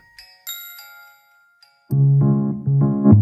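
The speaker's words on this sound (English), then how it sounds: "First, set the chimes to a pleasant medium level." A soft chime rings out in clear, sustained tones that decay gradually, followed by fuller, louder repeated chords at a moderate level.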